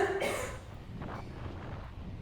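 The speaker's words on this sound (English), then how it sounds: "my wife's having some type of fit, coughing up." A woman's single sharp cough bursts near the start, followed by a fainter second cough, over steady low background noise during a bike race.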